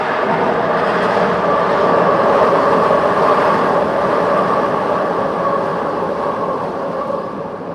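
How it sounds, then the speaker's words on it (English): A train passes directly overhead, a loud, steady roaring rumble with rail noise that holds throughout and eases slightly near the end. "Sorry, guys, we're under a train."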